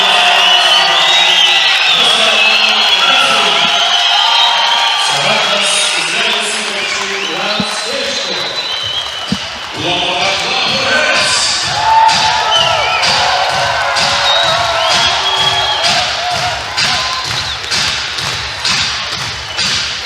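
A judo arena crowd at the Ulaanbaatar Grand Slam 2022 finals roars and cheers continuously, with rhythmic clapping and thumps growing steadier in the second half, under a commentator's voice.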